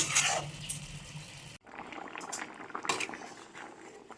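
A pot of curry bubbles and simmers close by, a continuous soft gurgling broken by a brief pause and a few light utensil clinks.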